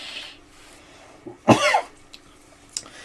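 A single sharp, close cough bursts out mid-clip, followed by faint breathing and small scuffling noises.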